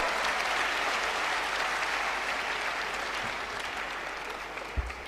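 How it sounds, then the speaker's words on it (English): Steady audience applause fills a hospital's 25th anniversary celebration after a dance performance, dense and sustained before gradually thinning out toward the end, with a faint thump near the close. "So audience, please give them a round of applause."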